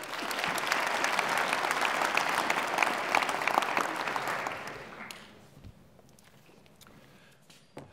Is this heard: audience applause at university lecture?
yes